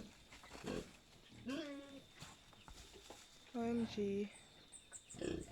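Pigs that broke out of their barn on a Jamaican pig farm make short squealing grunts in a few close bursts, with a person briefly exclaiming and other faint farm animal noises around.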